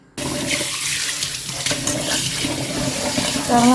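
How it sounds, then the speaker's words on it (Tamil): Tap water gushes steadily into a vessel while traditional rice is washed for idli batter, a loud continuous splashing rush that starts abruptly and runs unbroken, with no voices. "இதுக்கு இப்போ நான் தண்ணி ஊற்றி நல்லா கழுவிட்டு ஊற வச்சிட்றேன்"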